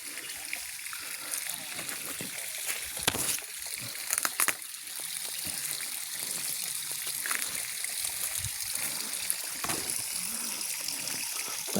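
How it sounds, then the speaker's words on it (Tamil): Irrigation water flowing through a farm plot, a steady broadband trickle and rush with a few brief splashes, heard fairly close and continuous throughout. "தண்ணி பாஞ்சிட்டு இருக்கு பாருங்க."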